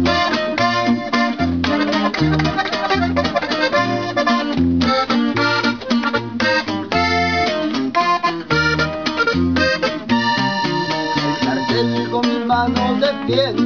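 A norteño-style band plays a song with accordion, bajo sexto and bass: a bright accordion melody rides over a bouncing bass line and strummed rhythm, loud and steady with no talk.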